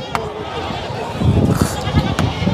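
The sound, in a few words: goat bleating at a livestock market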